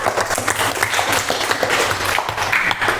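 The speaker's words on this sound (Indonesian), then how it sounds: "Beri tepuk tangan untuk Mbak Sophia." An audience applauds a participant in a question-and-answer session: dense, even clapping that holds at one loud level for three seconds and stands alone, without talk over it.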